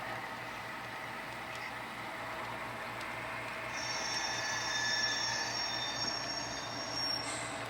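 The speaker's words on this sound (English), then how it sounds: "our Erie Lackawanna train is making another lap around the basement" An Erie Lackawanna model train runs laps on a basement layout, a steady rolling rumble with rising metallic wheel squeal, close and continuous.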